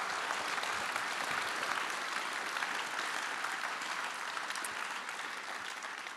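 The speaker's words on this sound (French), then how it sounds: "Je pense qu'on peut applaudir François Hollande." A conference audience applauds François Hollande, producing dense, sustained clapping from many hands at an even level that fades slightly toward the end, with no speech over it.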